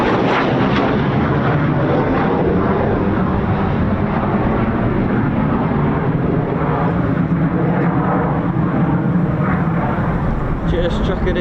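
A Eurofighter Typhoon FGR4 jet roars loudly and continuously at an RAF station, a dense broadband rush filling the whole stretch without letup.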